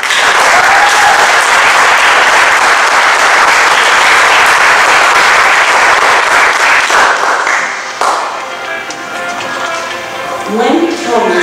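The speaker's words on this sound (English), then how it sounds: "I'd like to give him a round of applause." At a public hearing on a conversion therapy ban, a loud round of applause rings out in the room, sustained and close, then thins and fades as a few scattered claps and murmurs remain near the end.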